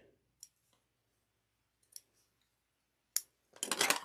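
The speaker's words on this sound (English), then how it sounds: "release my threads, snip my thread" Sewing scissors snip sewing thread in a few sharp, quiet clicks spaced apart, followed by a brief rustle of fabric at the end.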